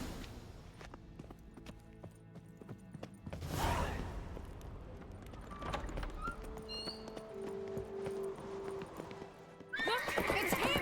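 Horses gallop in The Witcher 3, hooves clip-clopping steadily at close range with a whinny breaking through, the pounding growing louder toward the end over faint game ambience.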